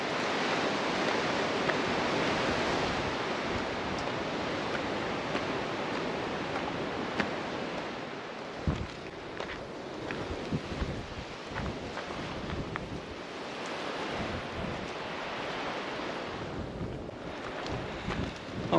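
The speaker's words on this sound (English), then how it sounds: "So the wind's a bit gusty." Strong, gusty wind buffets the microphone on a seaside hilltop of volcanic rock in New Zealand, a steady loud roar with surging gusts and rumbling low-end blasts throughout, no voices.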